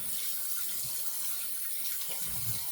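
A faucet runs steadily to rinse a double-edge razor and shaving soap, a constant close splashing hiss of water with small shifts as things pass under the stream.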